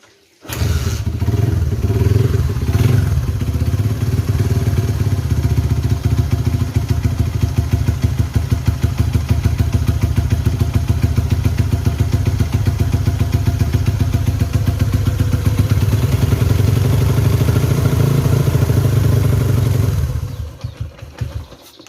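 Motorcycle engine starting and then running steadily at a loud, close idle while its oil lubrication line is tested, a continuous clattering thrum that cuts off near the end.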